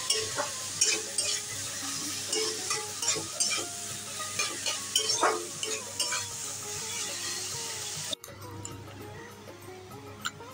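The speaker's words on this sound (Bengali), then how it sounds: "এখন টমেটোটা দিয়ে দিচ্ছি। ভালো করে কষিয়ে নেব।" Tomato sautéing with spice masala in a pan for chicken do pyaza, with an even fry sizzle and regular clicking scrapes of a spatula against the pan, close and fairly quiet, the stirring stopping near the end.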